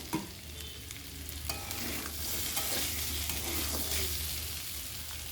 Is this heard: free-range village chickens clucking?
no